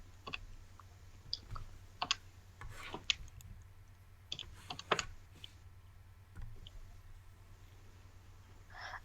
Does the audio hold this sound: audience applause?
no